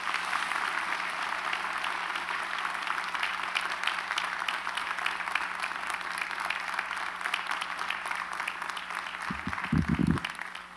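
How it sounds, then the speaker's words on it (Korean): A church congregation applauds during a Sunday service, a steady, dense wash of clapping that holds for about ten seconds before fading slightly, with a brief low thump near the end. "할렐루야 큰 박수로 맞이해 주시기 바랍니다"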